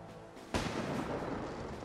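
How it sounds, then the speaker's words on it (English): Fireworks in Fallout 4 go off with a sudden loud burst, then a sustained crackling, rumbling roar that fills the rest of the moment. "Let's set off some fireworks here."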